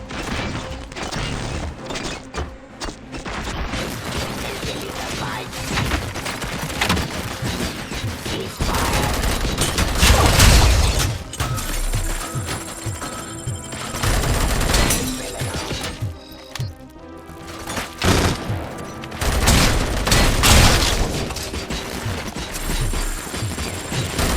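Sniper gunfire and combat effects in the video game Robocop: Rogue City, dense crashes, shattering and rapid shot bursts layered over a loud continuous game soundscape.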